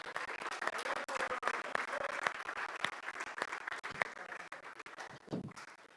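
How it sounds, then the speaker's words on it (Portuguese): An audience claps for João Lucas at a Christian teaching session, a fairly faint, steady patter of many hands with individual sharp claps standing out, sounding somewhat distant. "Galera, uma salva de palmas para João Lucas"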